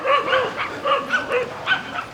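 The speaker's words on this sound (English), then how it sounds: "some dogs barking over there" Dogs bark and yip repeatedly at some distance, several short sharp calls spread across a couple of seconds with a bit of whimpering mixed in, no talk over them.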